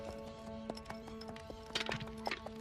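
A cartoon horse's hooves clip-clop in a steady, even rhythm in the French animated series Princesse Sissi, set against a sustained musical drone, with a few sharper hoof strikes near the end.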